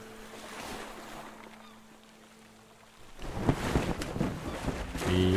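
A boat sails through ocean waves in the survival game Sunkenland. A quiet stretch gives way to louder rushing water and wind wash that keeps building toward the end, with no talking.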